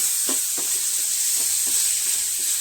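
Curry leaves and onion frying in hot oil, a loud, continuous close-up sizzle with a few soft knocks of a spoon against the pan.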